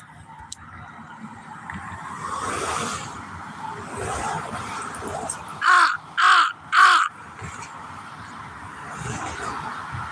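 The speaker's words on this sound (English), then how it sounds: "I see one of my crow buddies flying to the south." An outdoor crow calls three times in quick succession, loud, harsh caws standing out over steady background traffic and street hum.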